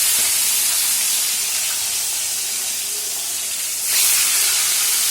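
Large pieces of fish belly hiss loudly in hot oil as a dense, continuous sizzle, with a brief surge about four seconds in as more frying kicks up, and no talking.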